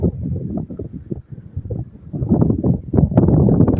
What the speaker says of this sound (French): Par contre, il y a du vent aujourd'hui, il fait pas super beau